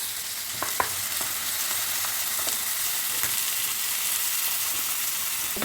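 Apple vinegar boils with chili powder, turmeric and salt in a pan for lubika pickle, a constant bubbling sizzle with a few sharp ticks of a spoon stirring, close and unbroken.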